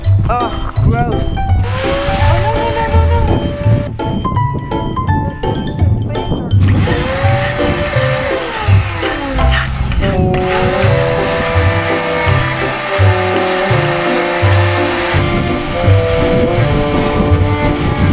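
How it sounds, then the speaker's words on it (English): A vacuum cleaner whines loudly as it sucks debris off the ground beside a boat hull during antifouling work, its motor pitch rising and falling as the nozzle moves, with people talking over it. "now I'm actually gonna vacuum the ground"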